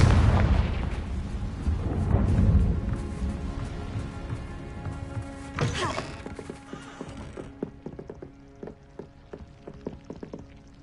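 A Confringo fire spell blast in the Hogwarts video game lands with a whooshing burst partway through, among dense game ambience with horse-like sounds and a run of crackling, popping hits trailing off afterward.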